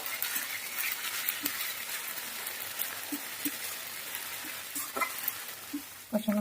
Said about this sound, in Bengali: এবার আমি এটাকে ভালোভাবে কষিয়ে নেব।